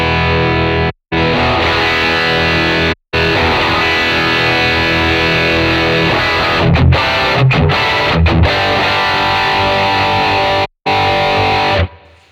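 Electric guitar played through a capture of an Analogman King of Tone overdrive pedal with both sides engaged, giving a loud, thick distorted tone in sustained chords and riffs, broken by a few short gaps of silence.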